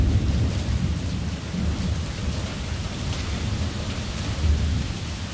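A thunderstorm in Austin brings a low rolling rumble of thunder over steady rain. The rumble swells and eases in waves while the rain hiss stays constant, and no one speaks.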